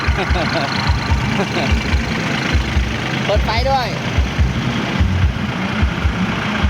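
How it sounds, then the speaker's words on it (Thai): Several tractor engines idle at a Buddhist Lent candle procession at a Thai village temple, a steady low rumbling drone running throughout beneath nearby people talking. "โอ้บันเกตรถไถเยอะเนาะ"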